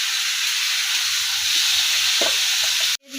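Mustard greens with cumin, green chilli and turmeric sizzle steadily in hot oil, a loud continuous hiss with soft stirring knocks beneath, cut off abruptly near the end.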